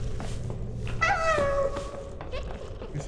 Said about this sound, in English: Okay, I'll just assume that's a cat.